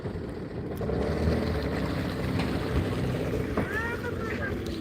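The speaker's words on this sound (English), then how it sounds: "That's an old two-stroke right there." An old two-stroke boat engine passes outdoors at sunset, a steady rough drone under wind noise, with people talking over it.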